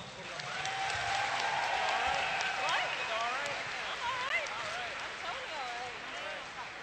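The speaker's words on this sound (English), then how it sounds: "Again, round of applause." Steady applause from a fan convention panel audience fills the whole stretch, with cheering voices and whistles rising and falling above the clapping.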